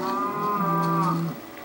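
A cow in Minecraft on Xbox 360 lets out a single drawn-out moo, clear and close, sliding down in pitch before fading, with no talk over it.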